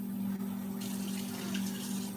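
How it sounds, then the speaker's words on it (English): Running water pours steadily into a can being rinsed out, a constant close-up splashing and filling sound with a low steady hum underneath and no talk. "I'm going to want to rinse out the can"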